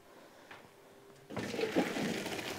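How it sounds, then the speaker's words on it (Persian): Water from cooked macaroni pours through a colander in a sudden rushing splash that starts after a quiet moment and continues steadily to the end. "مکرونی را دیگه آب شده و صاف میکنم"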